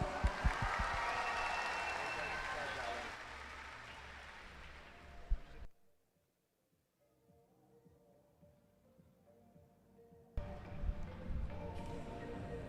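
Audience applause for swimmer Lauren Cox at a London international swimming super final: broad clapping and crowd noise swell loudly, drop to near silence midway, then return strongly at the end.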